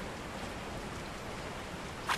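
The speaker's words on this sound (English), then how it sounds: "It's raining." Steady rain falls in the Resident Evil 4 VR video game, a continuous even hiss with no voices, ending in a brief louder splash or patter.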